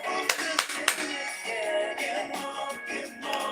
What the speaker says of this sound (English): why do you do that annoying clapping so early in the morning?